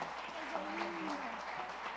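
A church congregation claps in praise during a celebration service, a soft, steady patter of many hands beneath a voice that carries over it throughout.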